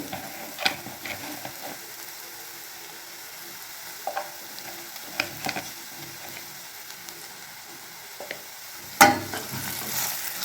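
Coriander powder and turmeric roast in a hot oil tadka for white chana dal, a steady frying sizzle with intermittent stirring scrapes and clicks from a spoon in the pan.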